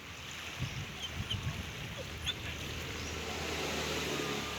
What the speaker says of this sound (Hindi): ये जब मैं पानी की आवाज़ें सुनता हूँ ना बहुत अच्छा लगता है।